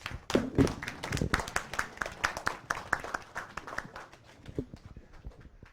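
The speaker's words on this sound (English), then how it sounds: "a big round of applause to all the students, also Anoy for all the amazing projects" Audience applause for students' VR projects at a spring showcase, a mid-sized crowd clapping steadily and close for several seconds, with voices murmuring underneath.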